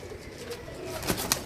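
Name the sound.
pigeons cooing and flapping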